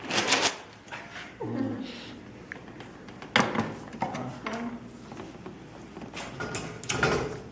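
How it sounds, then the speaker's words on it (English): An old Gutenberg-style printing press as the frisket lifts the printed paper off sticky inked type, giving a short peeling rasp among scattered wooden knocks and clacks, while a person talks quietly. "you can hear the frisket lift that paper"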